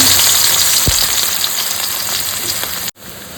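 Three large onions frying in a pan for salted hilsa curry: a loud, dense, continuous sizzle close up with a faint scrape, cutting off abruptly near the end.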